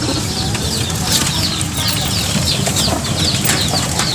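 Chickens cluck and chicks peep in a busy, close chorus, with soft rustling and fluttering beneath the steady background noise.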